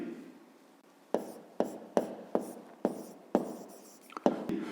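A pen scratches out short strokes on paper for a fifth-grade maths exercise, with about eight crisp taps and scrapes spaced at irregular intervals in a quiet room.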